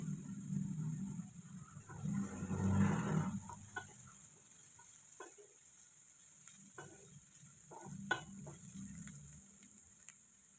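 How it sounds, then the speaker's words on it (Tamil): Onion, ginger and garlic sauté in a pan for paneer butter masala, giving a soft, steady sizzle that swells briefly, then settles under scattered light clicks and taps of stirring. "இதோட இஞ்சி பூண்டு சேர்த்து வதக்கலாம்."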